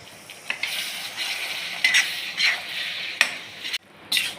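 Prawn pickle being stirred in a pan just after vinegar is poured in, a steady close sizzle with soft scraping strokes of the spoon rising and falling throughout.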